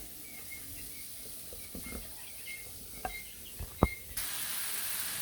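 Vegetable bhaji fries in a pan with a faint, steady sizzle, broken by a few soft scraping and stirring knocks near the end.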